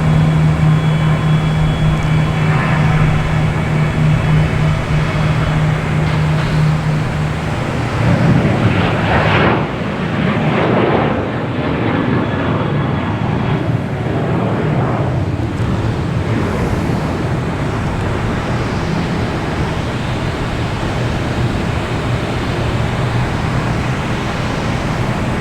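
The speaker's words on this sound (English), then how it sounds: "We'll get the takeoff here because the sound will be better." A Southwest airliner taking off at Boston Logan Airport: a steady, loud jet-engine roar with wind buffeting the microphone, swelling around the middle and then holding as a broad rumble, with no talk.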